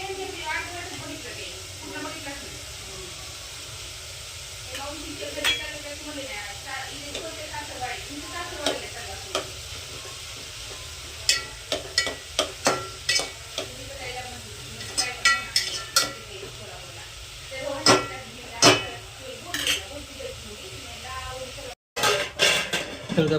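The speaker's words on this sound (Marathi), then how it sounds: "आता सगळं एकजीव करून घ्यायचं बघा." Pav bhaji is stirred and mixed in a pan, with a utensil scraping and clinking against the metal in irregular bursts over a low sizzle, growing busier toward the end while people talk nearby.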